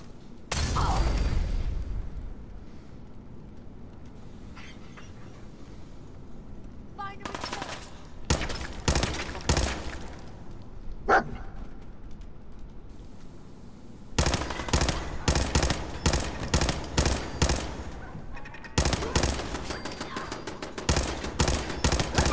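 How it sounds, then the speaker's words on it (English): Machine gun turret fire in Fallout 4, set in the Corvega assembly plant: a burst near the start, then sustained rapid automatic volleys in long dense stretches, loud and close, with brief lulls between them. "Ooh, that's a machine gun turret."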